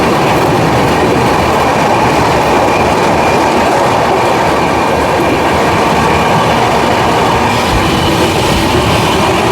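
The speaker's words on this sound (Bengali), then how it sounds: "লালগোলা প্যাসেঞ্জার যাচ্ছে, এটা হচ্ছে লালগোলা প্যাসেঞ্জার।" The Lalgola Passenger train runs alongside on an Indian railway line, a loud continuous rumble and rattle of carriages and wheels heard from close by, with no talk.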